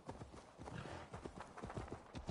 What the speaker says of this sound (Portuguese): só tem que chamar o cavalo.